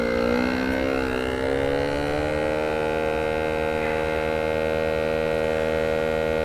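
An Inkbird compact vacuum sealer runs with a steady motor hum and whir that shifts slightly in pitch early on, then holds even and loud to the end.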